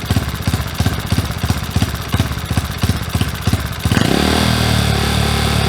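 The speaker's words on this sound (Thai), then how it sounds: "เดี๋ยวมาลองดูอัตราการตอบสนองของคันเร่งดูนะครับ" A motorcycle fitted with a CB 32mm carburetor is blipped in a rapid run of short, sharp throttle revs, then held in one loud sustained rev near the end, close up with no talk.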